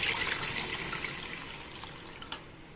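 Water is poured into a pan of cabbage kofta curry, making a soft, fairly faint splashing gush that slowly fades over a few seconds, with a small clink near the end.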